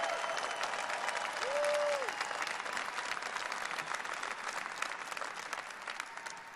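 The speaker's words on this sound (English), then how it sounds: "And all I do is get applauded for that move so much" A crowd applauds steadily at a Trump rally speech, dense sustained clapping filling the whole stretch at fairly constant loudness, with a brief tonal whistle-like sound rising above it near the start.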